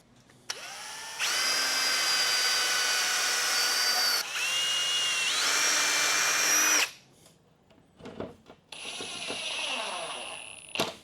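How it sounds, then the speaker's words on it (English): A power drill bores through a spacer that will be screwed to the face of a board. Two long, loud, whining runs rise in pitch, then a few short bursts and clicks follow, all up close with no talk. "I'm just gonna drill through"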